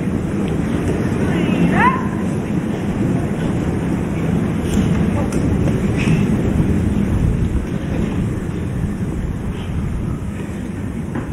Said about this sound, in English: It's really windy, Serena.